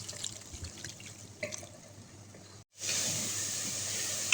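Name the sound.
water being poured into a cooking pot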